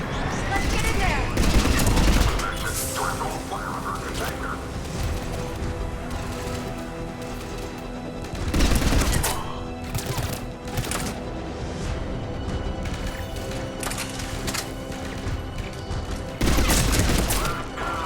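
Gunfire rattles around a checkpoint in Mass Effect 3, with heavy volleys bursting out at intervals over a steady din of combat sounds and background hum.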